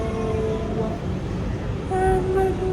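A New York City subway B train running express in the Bronx, a steady rumbling ride with sustained tonal whine and brief high squeals near the end, heard from inside the car.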